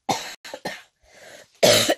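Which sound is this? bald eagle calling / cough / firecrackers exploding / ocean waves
cough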